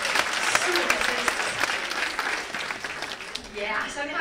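Audience applause at a Christmas charity show fills the room with steady, dense clapping from start to finish, with a few scattered voices mixed in.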